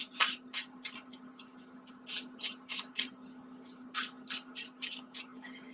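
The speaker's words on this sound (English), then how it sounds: "I'm going to do a really quick additional shuffle" A deck of tarot cards shuffled by hand, quick crisp riffling bursts in an uneven rhythm of short flurries, close and soft over a faint steady hum.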